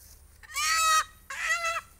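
Chicken (rooster) being readied for slaughter at a rural feast gives two loud, close clucking-squawk calls, each about half a second, with a short gap between them, against faint background noise.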